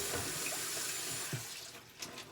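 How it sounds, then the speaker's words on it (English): Water runs from a kitchen tap into a sink or container, a close, steady splashing rush that tapers off near the end, with a few small knocks and no speech. "So I'm going to pour up this water."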